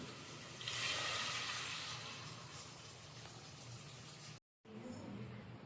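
A soft, steady stream of water, two tumblers' worth, runs into a pot of rice, gushing a bit louder at first and then settling, with a brief silent break near the end.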